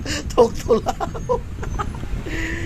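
A person imitates a chicken with a series of short, clucking vocal bursts, loud and close, over a noisy background.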